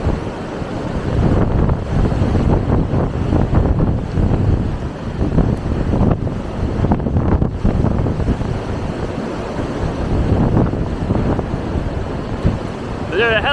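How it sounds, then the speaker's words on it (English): Strong wind gusting through trees in a yard during windy February weather, a loud, continuous rushing roar with surging gusts and heavy buffeting on the microphone throughout. "when the wind, you hear the wind in the trees,"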